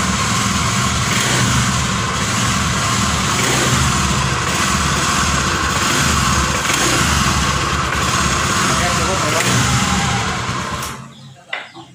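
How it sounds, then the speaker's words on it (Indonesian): A motorcycle engine, flagged by its owner for a fault when the throttle is first opened, runs loud and close with a steady rough roar that holds nearly throughout, then cuts off near the end. "motor ini ketika pertama ditarik gas, pertama jalan"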